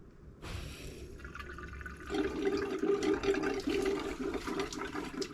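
Water runs into a caravan's water tank until it spills from the overflow, a quiet trickle that swells abruptly into a louder gurgling, splashing flow partway through.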